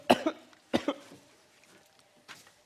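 Two sharp coughs close together, then a fainter third cough after a pause, heard alone with no talking.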